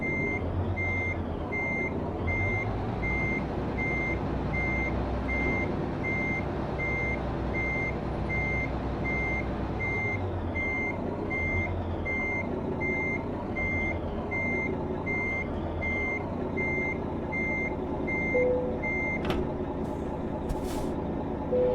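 In American Truck Simulator, a truck backs up a big trailer slowly, with a steady loud reversing beeper pulsing evenly over a low engine drone and a few sharp hisses near the end.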